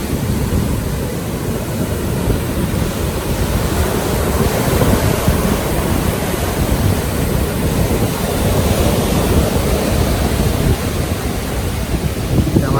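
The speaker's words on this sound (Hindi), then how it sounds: "पानी ये बड़ी लहर आई है साहब, ये बड़ी लहर आई है।" Big sea waves surge onto the shore at Gadani near Hub, Karachi, a loud, continuous roar of churning surf with broad wash and wind noise, no pauses between breakers.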